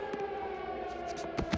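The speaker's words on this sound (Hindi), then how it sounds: "अब एयर रेड सायरन को बंद कर दो" An air raid siren wails in a cartoon, a steady held tone with a few brief higher bursts cutting over it near the end.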